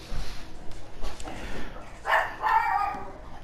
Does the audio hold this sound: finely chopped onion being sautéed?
no